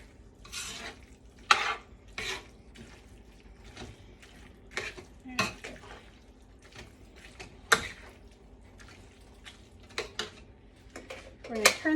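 A spoon stirs cream cheese into a verde enchilada filling in a pan, making repeated close scrapes and clinks against the cookware. A faint sizzle sits underneath.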